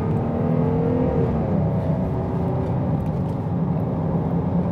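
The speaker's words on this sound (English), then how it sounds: "So I'm going to accelerate quite a bit and see what we got with this V6." A 2021 Jeep Grand Cherokee L with a V6 engine accelerating hard at highway speed, a loud steady engine drone and road rumble that builds continuously without any pause.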